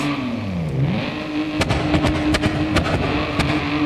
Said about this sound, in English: It's a 3-liter inline 6-cylinder M30 engine,